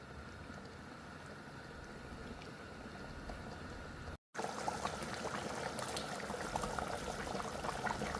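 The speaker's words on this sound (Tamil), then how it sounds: "ரெண்டு நிமிஷம் கொதிக்கிட்டோம்" Continuous bubbling of thick country chicken curry simmering in a pot, steady and close, with a brief cut midway before the bubbling resumes louder.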